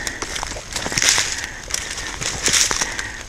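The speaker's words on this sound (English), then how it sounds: "it's raining quite a bit." Heavy rain falls in a forest at Hidden Lake in Sam Houston National Forest, a steady dense wash of hiss and patter with crackling drops, close and continuous throughout.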